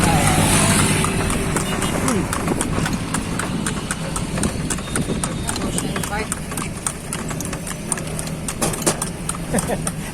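A horse's hooves clip-clop steadily on a road, close and continuous, mixed with a running car engine and traffic while people talk throughout.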